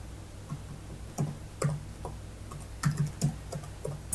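Keys on a computer keyboard click in short irregular bursts as a prompt is typed, fairly close and quiet over a steady low background hum, with no talking.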